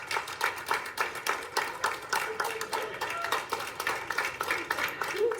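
Hospital staff at Lakeridge Health clap and cheer as a recovered COVID-19 patient walks to his wife and daughter, brisk rhythmic hand claps close by with a few voices calling out underneath.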